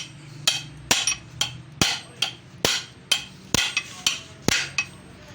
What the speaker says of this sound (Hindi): ये इसकी सील हमने ठोक दी है